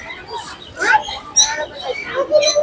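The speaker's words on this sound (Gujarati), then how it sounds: "કલર કલર ના પોપટો છે" Colorful parrots chirp and squawk in bursts at Sarthana Nature Park zoo in Surat, with a voice talking over them and faint background noise.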